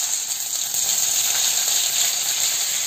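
Mustard seeds sizzle and crackle in hot gingerly (sesame) oil for a turkey berry vatha kuzhambu, making a loud, continuous close-up hiss with no talking.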